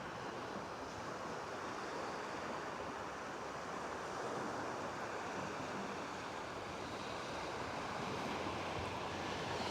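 Rough ocean surf rolling onto Palm Cove beach, a steady broad wash of breaking waves with some wind buffeting the microphone, continuous and moderately distant, no voices.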